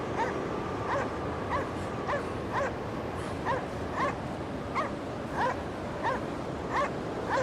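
Dog in the video game Cryostasis giving a steady run of about a dozen short yips and whimpering barks, evenly spaced over a constant wind-like background.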